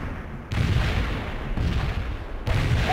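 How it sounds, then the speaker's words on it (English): Mortar strike explosions in the World in Conflict real-time strategy game: three heavy booming impacts land about a second apart, each a sudden blast trailing into rumbling, with no voices. "Mortar strike took care of enemy units in target area"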